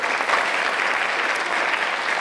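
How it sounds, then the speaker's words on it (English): Audience applause for young girls at a children's pageant on a school stage, steady dense clapping filling the room without a break and no voices over it. "let's cheer them on"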